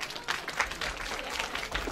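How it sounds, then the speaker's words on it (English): Audience applause at a school annual day prize distribution, a dense, steady wash of many hands clapping that carries through the whole two seconds without a break. "A huge clap."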